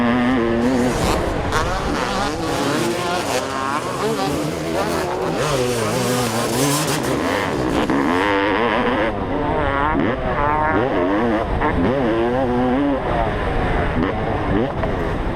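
A 32-year-old Honda CR500 two-stroke and modern dirt bikes racing on a hillside track at Foxhills, engines revving and wailing up and down loudly, with wind buffeting and a commentator talking over the racket.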